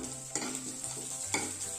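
Pounded ginger, garlic and green chili paste frying in a pan, a steady sizzle close by, broken twice by the scrape of a spoon stirring through it.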